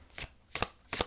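Three short, crisp card slides and slaps come from a tarot deck, spaced about a third of a second apart, close and fairly soft, with no talking.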